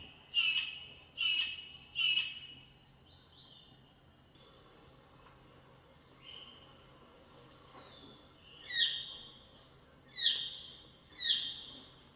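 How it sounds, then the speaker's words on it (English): A bird in Papua New Guinea gives sharp, high repeated calls during a courtship display, three quick bursts, a quieter drawn-out whistle, then three more calls, fairly close over a faint hum. "Listen to the bird."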